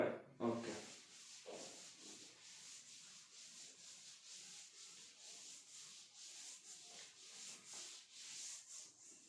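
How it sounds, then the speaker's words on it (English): Writing is rubbed off a board with steady back-and-forth wiping strokes, a soft, continuous rubbing hiss that stays fairly faint throughout. "rubbing it off"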